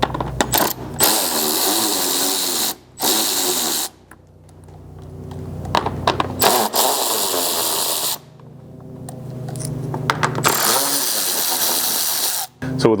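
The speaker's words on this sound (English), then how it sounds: "so we'll grab our screwdriver for that." A screwdriver pries at a center pop-style plastic clip on the front bumper of a Lexus GX 550 during a Blitz bumper install, giving bursts of scraping, clicking plastic and metal contact separated by brief quiet gaps.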